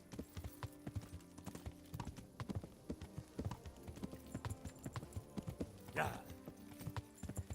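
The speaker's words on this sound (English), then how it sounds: "This is a brilliant horse." Horse hooves clip-clop at a steady trot through Kingdom Come: Deliverance near Talmberg Castle, a continuous rhythmic patter of close, moderate-volume footfalls with a brief higher burst partway through and someone talking over the top.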